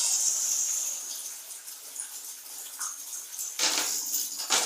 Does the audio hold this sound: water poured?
yes